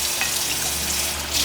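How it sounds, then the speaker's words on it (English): A kitchen tap runs hot water for washing chicken, a steady loud hiss of flowing water close by with no speech over it. "So I put the water to like the hottest that it could be."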